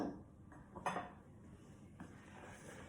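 Olive oil dough being mixed in a bowl, with a few faint utensil clinks against the bowl and a brief scraping clatter, all quiet and close.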